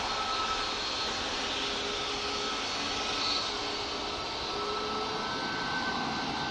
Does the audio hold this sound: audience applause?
no